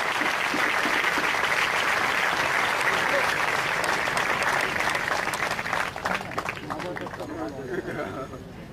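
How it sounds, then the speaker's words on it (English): Big round of applause from an audience at an educational institution event welcoming Dr. APJ Abdul Kalam, sustained crowd clapping that thins out over the last seconds as a voice begins speaking underneath. "Give a big round of applause."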